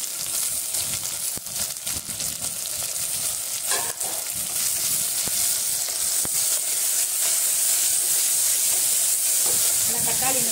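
Ripe tomatoes cook down with sautéed onions in a pan for a dried fish, brinjal and drumstick curry, giving a steady close sizzle and hiss with scraping stirs throughout, no talking.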